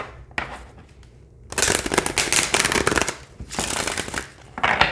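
Daily Crystal Inspiration cards riffle in quick rapid bursts, a brief flutter followed by two longer crisp shuffles close up, with no talking.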